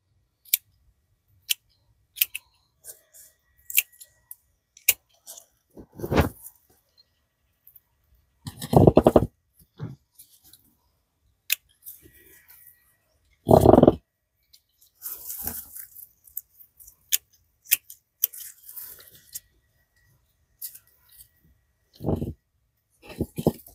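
Snips of garden shears or scissors cut back overhanging petunias in a summer container planter, a series of short, separated crisp clicks with rustling foliage and a few longer cutting passages, close up and without talk.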